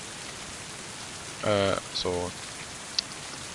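Rain switched on in the game Mind: Path to Thalamus falls as a steady, hissing downpour throughout, with a few brief spoken words over it partway through.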